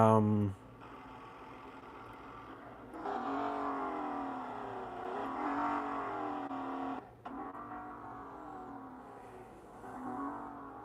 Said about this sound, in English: the engine noise.